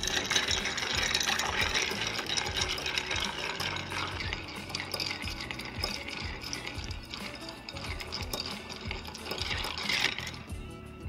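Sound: stirring ice in a cocktail mixing glass

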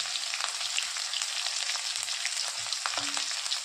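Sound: green chili and garlic sizzling in hot oil

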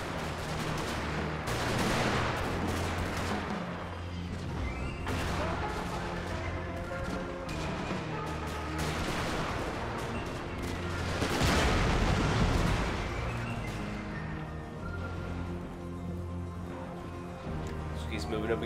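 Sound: rapid artillery fire in American Civil War Mod video game

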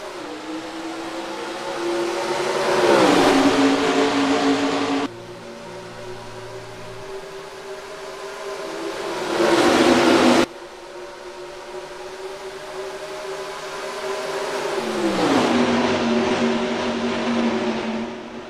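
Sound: race trucks accelerating at green flag, NASCAR Racing 2003 video game

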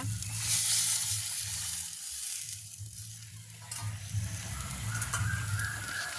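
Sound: onions and chillies sizzling while being sautéed

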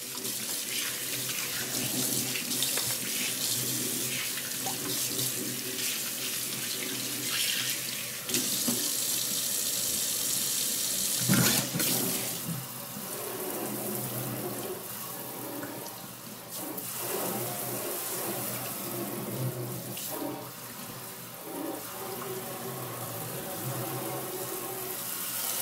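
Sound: water running from tap rinsing out a sponge

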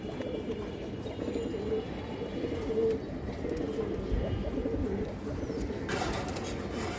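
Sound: pigeons cooing

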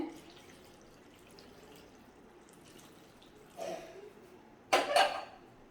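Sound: water being poured into cooking pot

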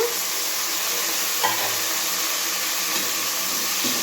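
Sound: tomatoes frying with onions and green chillies

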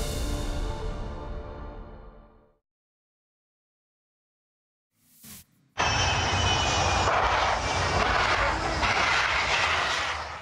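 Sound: FedEx plane skipping across airport tarmac on faulty landing gear

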